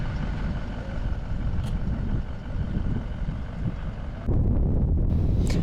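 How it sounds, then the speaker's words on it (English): Strong wind buffeting a microphone on a day out in Richtersveld National Park: continuous low rumbling gusts throughout, swelling louder near the end. "It's a particularly windy day"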